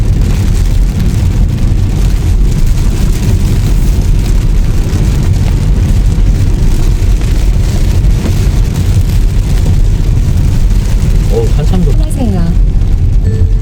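Rain falling during a drive through a small, quiet Korean village, a dense continuous hiss over the low rumble of the moving car, steady and close throughout.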